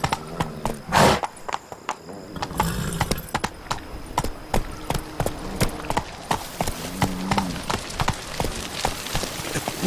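Roach, a horse in The Witcher 3, gallops with rapid rhythmic clip-clop hoofbeats, steady and close across the whole stretch, with a brief louder burst near the start.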